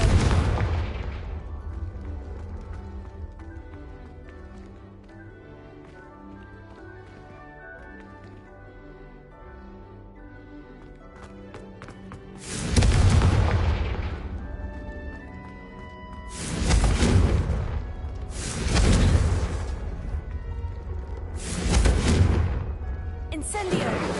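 Confringo blasting spells explode in Hogwarts Legacy, a spell cast at bridge targets: four loud, booming blasts with long rumbling tails arrive in the second half, following a stretch of quieter fantasy game music.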